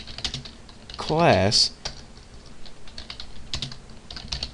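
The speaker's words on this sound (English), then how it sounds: "Let's go ahead and type private" Java code is typed on a computer keyboard, a quick run of close, crisp key clicks, briefly joined by a short spoken word partway through.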